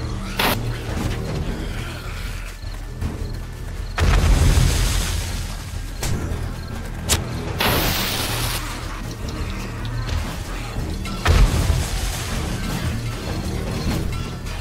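Pipe bomb explosions in the zombie survival game 7 Days to Die during a horde night: a couple of loud booming blasts with crashing debris over a constant rumbling background of game noise.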